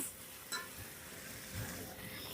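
Potato and egg mixture stirred in a frying pan for a quick snack, giving a soft, continuous scraping and faint sizzle with a couple of light utensil taps, steady and close.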